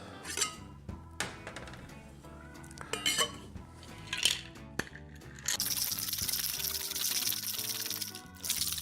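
Ice cubes drop clinking into a glass for a game-day tailgating cocktail, several sharp glassy knocks and rattles followed by a longer wash of pouring liquid.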